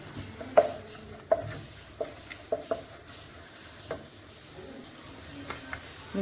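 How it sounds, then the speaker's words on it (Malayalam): Chicken masala and turmeric powders being stirred and sautéed in a hot pan, with a soft steady sizzle broken by scattered close clinks of the spoon against the pan, no voices. "പൊടികളുടെ പച്ചമണം പോകുന്നത് വരെ നന്നായിട്ടൊന്ന് വഴറ്റിയെടുക്കാം"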